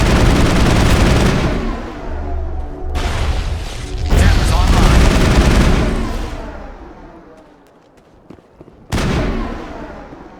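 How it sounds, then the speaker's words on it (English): In Mass Effect, loud gunfire crossfire from the Geth fight sounds as rapid rattling bursts and booms. It fades into a quiet stretch, and then a sharp burst cuts back in near the end. "Manovai is under coordinated crossfire."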